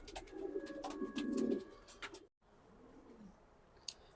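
Young racing pigeons from a club loft coo in low, murmuring bursts near the microphone, with a longer rolling coo building before a short pause and softer cooing after it.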